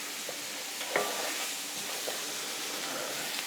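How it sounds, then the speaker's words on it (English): A roux for vegetarian gumbo is stirred in a pan under a constant soft sizzle, with a spoon knocking once and scraping lightly against the pan. "Mix it around. Don't stop stirring. Get it all coated."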